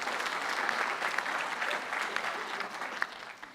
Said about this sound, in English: give yourselves a round of applause for being here this morning